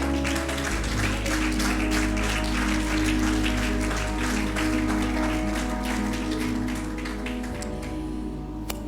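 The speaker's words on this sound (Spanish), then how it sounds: "¿Cuántos darán un aplauso a Dios en esta hora?" Church congregation clapping together in a steady, dense rain of claps throughout, with a low sustained hum underneath and faint voices mixed in.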